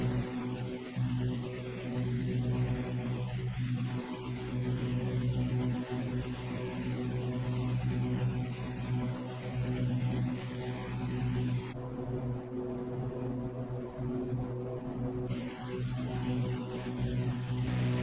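Steady propeller aircraft engine drone in Microsoft Flight Simulator, a sustained low hum held at even loudness throughout, with no voices present.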